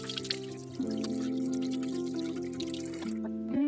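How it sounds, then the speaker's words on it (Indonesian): Gloved hands are rinsed under running water from a tap, a steady close splashing stream with a tonal hum of the flowing faucet that continues for several seconds before shutting off. "mencuci tangan yang masih menggunakan sarung tangan dengan air mengalir"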